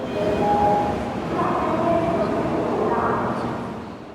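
Inside a train travelling through southern China toward Shenzhen, a constant rumble and hum of the rolling carriage fills the space, with faint indistinct voices mixed into the steady noise.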